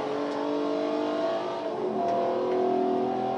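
A Nissan 370Z's engine revs steadily in a Forza racing game, a sustained mid-pitched drone with gear-like pitch shifts partway through and no voices over it.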